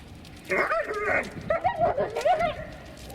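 A dog being trained gives a short burst of barks and whimpering yips, close and loud, in several quick clusters over about three seconds, with no one speaking.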